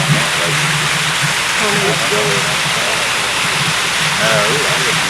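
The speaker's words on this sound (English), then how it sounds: "That's a real waterfall." A real waterfall near a creek in Mt. Olivet, North Carolina roars as loud, steady broadband rushing water close by, with people talking over it.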